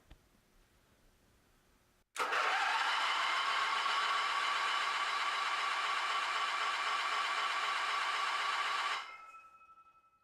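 After a quiet lead-in, an engine is started at the push of a start button and roars up abruptly, holding a steady, loud, close drone for about seven seconds before winding down.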